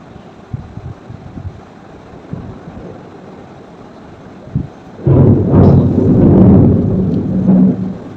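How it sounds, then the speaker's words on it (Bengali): After a few faint distant bumps, a loud, deep thunder rumble breaks out and keeps rolling heavily to the end. "শুনতে পাচ্ছ বাজের আওয়াজ? কি জোরে যে বাজটা পড়ছে"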